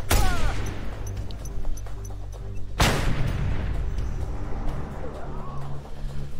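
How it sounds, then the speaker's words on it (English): Loud explosive gunfire and booms from the video game Just Cause 2, with a heavy blast at the start and another near three seconds, followed by rumbling vehicle noise and scattered shots beneath. "Excuse me, why are you shooting at me?"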